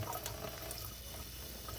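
Tap water runs steadily over crystals and a chain held under the stream, a constant close wash of splashing flow with no pauses.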